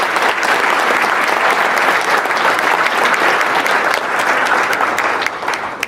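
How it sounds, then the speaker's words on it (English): A large crowd at an awards night applauds the event sponsors, loud and sustained clapping with no pause for about six seconds, easing slightly at the end. "So please give them a big round of applause."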